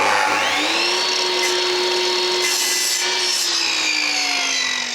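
A rough, steady rasp of a hand saw cutting through a wooden dowel on a ladder, continuous strokes up close with a faint whine beneath.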